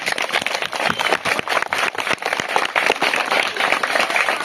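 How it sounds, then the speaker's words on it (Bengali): An audience in a coaching centre hall claps for the teachers at a Teachers Day event, a dense, continuous burst of applause from many hands, close and loud throughout. "তাদের জন্য একবার জোরে হাততালি"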